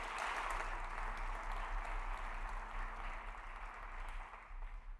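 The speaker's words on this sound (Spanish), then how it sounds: "¿Cuántos lo aplauden a él?" A church congregation applauds with a broad, even wash of clapping that fades slightly toward the end, with a low hum in the background.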